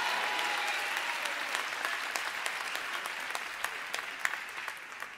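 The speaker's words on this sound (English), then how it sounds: "I wish I could get some more hand claps here." A church congregation claps during a pastor's sermon, a loud, continuous roar of many hands that tapers slightly as it goes, with sharper individual claps near the end.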